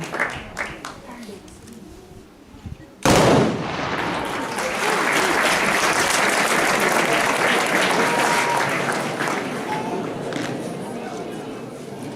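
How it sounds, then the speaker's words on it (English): A Philippine Marine Corps artillery salute salvo fires at the Philippine Military Academy in Baguio City, one loud sudden boom that rolls into a long echoing roar. A crowd applauds and cheers through the reverberation, and voices can be heard. "cover your ears as they offer the initial salvo to the Philippine Military Academy"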